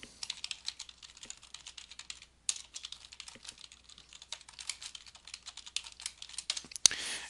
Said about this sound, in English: we can type a note